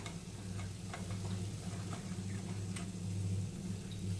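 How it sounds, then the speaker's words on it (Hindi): Bread potato pakoras frying in oil over a slow flame, a steady low bubbling sizzle with faint crackles and occasional light ticks, continuous and close throughout. "हमने इन्हें उलट पलट कर अच्छे से दोनों तरफ फ्राई कर लिया है और 2 से 3 मिनट में फ्राई हो चुके हैं।"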